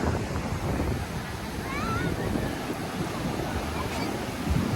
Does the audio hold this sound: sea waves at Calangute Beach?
yes